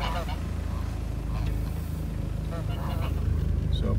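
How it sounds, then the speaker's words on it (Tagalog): Geese honking in scattered calls over a steady, noisy outdoor farm background, with some talking mixed in. "Namamasyal ang mga gansa."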